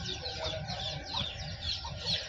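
Desi country hens on a village poultry farm cluck in repeated, close, fairly loud bursts, several birds overlapping without a break.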